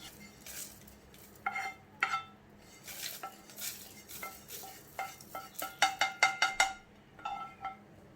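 Whole garam masala spices tipped into a grinder jar, heard as a run of light clinks and rattles in uneven bursts, busiest near the end, close and fairly soft.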